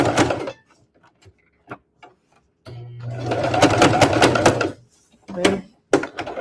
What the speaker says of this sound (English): and then I'm going to sew to this first little notch